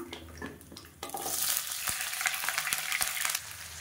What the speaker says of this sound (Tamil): இப்போ எல்லாமே நல்லா பொரிய ஆரம்பிச்சிருச்சு.